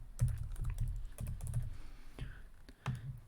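Rapid keystrokes on a computer keyboard while entering values in FreeCAD CAD software, a close, steady run of crisp clicks in uneven bursts with no voices.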